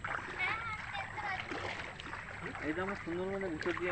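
A boat moves along a waterway in the Sundarbans, with soft splashing and water noise running steadily beneath nearby voices talking.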